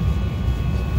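Inside a passenger airplane cabin after boarding, a loud, steady low rumble and broadband roar of engines and air systems fills the space continuously, with no voices over it.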